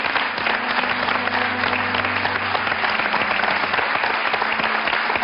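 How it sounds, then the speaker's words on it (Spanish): Loud, dense audience applause fills a studio during an Andalusian broadcast, sustained and even from start to finish with no talking over it. "el aplauso de Andalucía es para ti."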